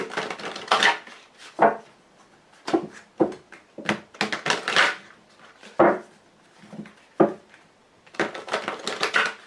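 A deck of Lenormand cards (Grand Jeu) is shuffled and cut close up, giving clustered papery riffles and snaps separated by brief pauses, with no talking.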